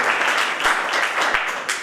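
Audience at a library week event in a hall clapping to welcome the Urdu Academy chairman, dense steady applause filling the whole moment, close and fairly loud.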